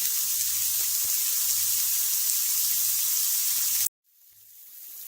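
Ingredients browning in a pan for a vegan, gluten-free coconut milk curry make a steady, close sizzle with a soft low bubbling pulse, cut off abruptly near the end before faint sizzling returns.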